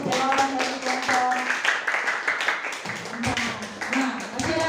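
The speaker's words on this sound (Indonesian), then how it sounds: "beri tepuk tangan untuk jawaban dari kelompok" A classroom group gets applause from students during a teacher training session, a burst of clapping hands with tapping rhythm, mixed with some voices.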